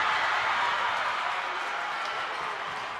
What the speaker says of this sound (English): I feel like I'm having to talk really loud to stay over this crowd